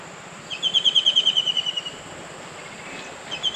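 Outdoors at a campsite in Norzagaray, Bulacan, a bird gives a fast trill of about a dozen bright repeated notes. Quiet ambience follows, then a short new burst of the same call near the end.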